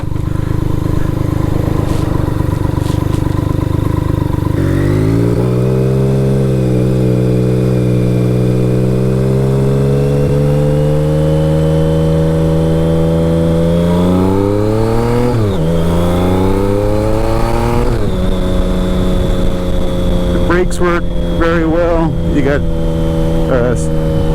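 A 1986 BMW K75 cafe racer motorcycle engine revving up, loud and close, rising and falling through several throttle sweeps before settling back toward idle.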